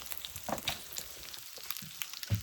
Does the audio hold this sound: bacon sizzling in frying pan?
yes